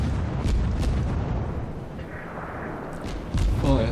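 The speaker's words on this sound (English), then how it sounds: "Fire some of my guns, and here's the rest of my broadside goes into action." Naval guns of a St. Louis armoured cruiser fire a broadside in World of Warships, a series of heavy booming blasts rolling over each other, loud and dense throughout with a fresh burst near the end.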